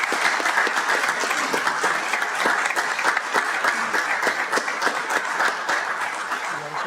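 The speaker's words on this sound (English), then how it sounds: "please give them a round of applause for all that they do for our community" A crowd at a city council meeting applauds steadily for several seconds, dense even clapping that holds at a constant level throughout.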